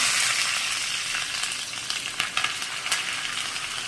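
Curry leaves crackle and sizzle as they hit hot cumin tempering in wood-pressed oil with the gas switched off, a dense steady frying hiss with a few sharper pops near the end, close and without talk.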